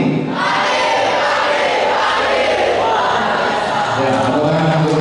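A large seminar audience calls back a morning greeting in chorus, then breaks into sustained applause, loud and dense throughout.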